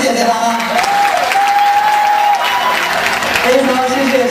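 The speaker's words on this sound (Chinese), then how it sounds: "要给你们拍手热烈的掌声" An audience claps loudly and continuously after a drama performance, "Ten Brothers", at an MMU Chinese New Year event, with a voice speaking over the applause.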